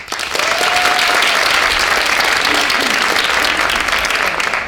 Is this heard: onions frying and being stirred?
no